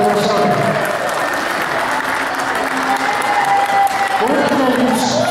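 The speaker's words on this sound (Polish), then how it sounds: "Wielkie brawa. Proszę do zaszczytu." Loud, sustained applause fills the hall at the final of a tournament, a thick, even wash of clapping that continues throughout while a voice speaks faintly beneath it.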